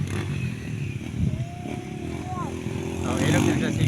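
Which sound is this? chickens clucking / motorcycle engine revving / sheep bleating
motorcycle engine revving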